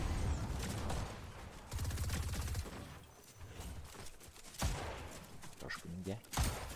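Fortnite gunfire crackles in rapid bursts amid the game's busy sound, with someone talking over much of it.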